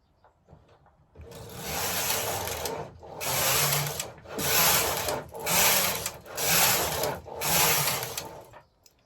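A knitting machine carriage is pushed back and forth across the needle bed as it knits stripes, making five loud, regular rasping sweeps with brief pauses between passes and no talk.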